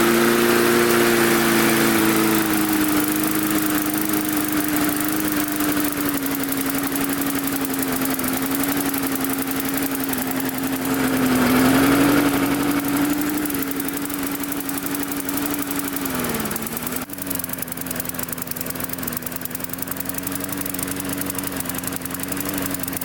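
A trash-picked walk-behind lawn mower engine runs steadily close by, a droning hum whose pitch sags and recovers as it hunts unevenly, with one brief dip and a sharp click later on.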